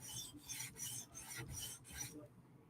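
Forward strokes of a Hinderer knife across a sharpening stone give six rhythmic, raspy scrapes in quick succession, each a short gritty swish, close and quiet, followed by a brief pause.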